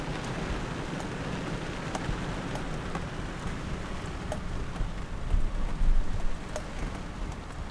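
Rain falls steadily on a rainy day, a dense constant patter of drops with occasional sharper drips, swelling briefly louder near the end.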